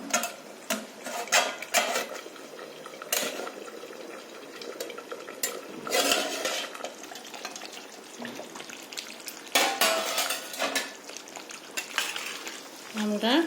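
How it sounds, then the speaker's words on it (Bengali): Lid lifted off a pan of simmering boal fish curry, a few clattering metal knocks and scrapes of utensils over a quiet background hiss, heard close and without talking. "এখন ঢাকনাটা খুলি।"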